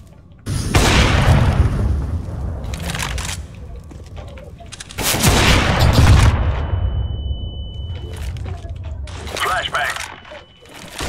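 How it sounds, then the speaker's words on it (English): Flashbang grenades go off in CS:GO as two loud, booming bursts several seconds apart, each trailing into a long rumbling decay, with a high ringing tone after the second and gameplay sounds between them. "Throwing flashbang!"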